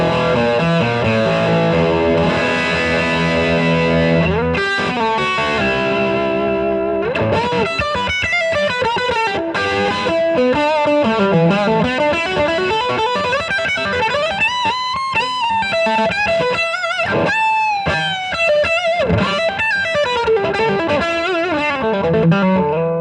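Electric guitar on the bridge pickup through an amp pushed to the edge of breakup, playing loud rock riffs and sustained lead bends with mild distortion and effects, close and continuous with no talking.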